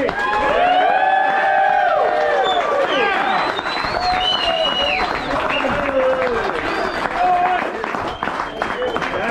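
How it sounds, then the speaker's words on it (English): An audience breaks into loud applause and cheering, with dense clapping, whoops and high excited shouts layered over continuous crowd noise throughout. "give Nathan a big round of applause."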